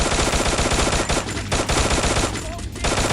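Dense, rapid gunfire from the battle-royale video game Free Fire, with continuous automatic bursts loud and close throughout, a brief dip midway before firing resumes.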